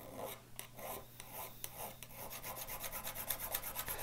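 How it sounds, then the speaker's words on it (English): A file rasps against the cutting edge of a drill bit as it is sharpened, steady close strokes repeating in a quickening rhythm with no talk. "I'm just going to sharpen the blade a little bit"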